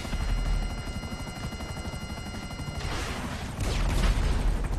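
A helicopter in GTA V Online drones steadily throughout, its rotor chop and engine roar staying loud and close, with a burst of gunfire-like crackle joining near the end.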